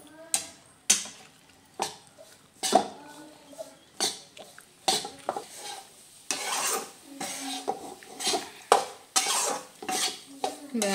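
A spoon scrapes and stirs gram flour roasting in ghee in a pan over a low flame for Diwali besan laddu: steady, repeated close scraping strokes with an uneven rhythm, and no voices.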